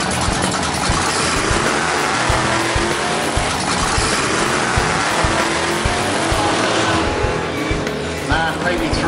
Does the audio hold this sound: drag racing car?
yes